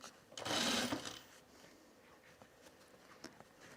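A sewing machine stitches a canvas bag in one short, quiet burst of rapid whirring. Faint clicks and handling noises follow.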